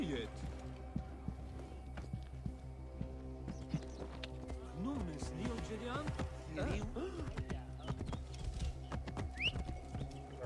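Horse hooves clip-clop in Assassin's Creed Origins, steady clopping under someone talking over game music, with a brief whinny and some keyboard tapping.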